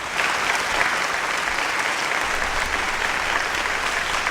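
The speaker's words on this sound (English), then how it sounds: "let's give Trump Vader his round of applause" A live audience gives a dense, even round of applause that holds at a steady level from start to finish, with no voices rising above the clapping.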